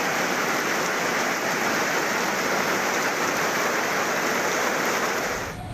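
Heavy rain falls in Tamil Nadu as a loud, dense, continuous downpour that stays even throughout and fades slightly at the very end, no voices.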